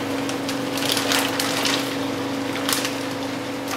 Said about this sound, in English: You then add the second to final ingredient, the corn pieces. Put all of them in